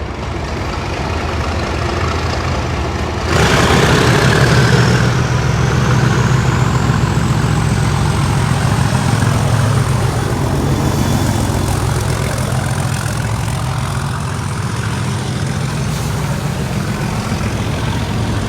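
Class 37 diesel locomotive 37425 departing Leeds on a rail-head treatment train, a loud, heavy engine roar that surges and then holds a sustained throbbing thrash, with a rising whine above it.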